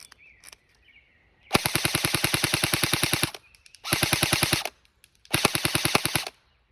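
SA-FX01 Flex X-ASR airsoft submachine gun firing three loud, rapid full-auto bursts of clattering shots at a target about 40 meters away, with short quiet gaps between bursts.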